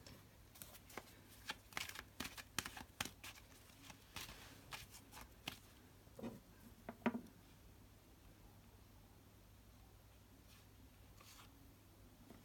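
Tarot cards shuffled by hand in a quiet room, giving a run of soft, close riffling and tapping bursts during the first seven seconds before the sound thins to faint scattered handling.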